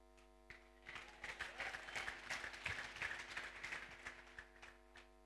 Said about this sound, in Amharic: እሄ ጭብጨባ አይመጥንም